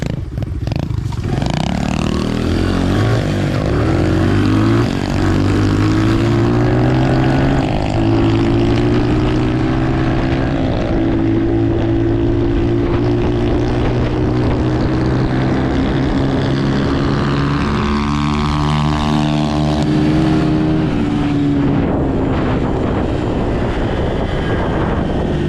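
Several dirt bikes ride close by, engines droning loudly and steadily throughout with rising and falling revs as they move around a curve.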